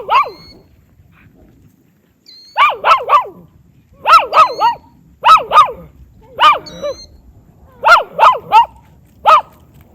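A dog in a Montana village barks close to a GoPro camera, loud, in bursts of two or three sharp barks with short pauses and a few whimpering yips, no voices.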